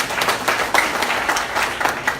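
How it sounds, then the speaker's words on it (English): Audience clapping at a training session, steady crowd applause of many hands, fairly loud and continuous for a couple of seconds. "let's clap for them"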